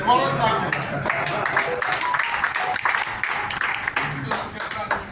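Scattered audience clapping at an Agarwal community oath ceremony in Visakhapatnam, uneven bursts of hand claps mixed with voices talking over them throughout.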